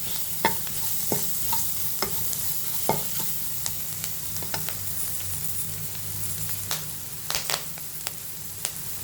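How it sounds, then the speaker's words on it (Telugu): Onions with turmeric fry in a pan for a simple tomato curry, a steady sizzle running throughout with repeated sharp scrapes and clinks of a spoon stirring against the pan. "పసుపు కొంచెం పచ్చివాసన లేనాక వేపుకోవాలి అంతే"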